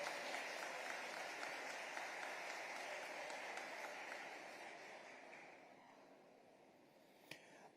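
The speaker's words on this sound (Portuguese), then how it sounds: "vamos aplaudir a palavra do Senhor" A large church congregation applauds at a worship conference, with sustained dense clapping that fades away over several seconds into near silence, followed by one faint click.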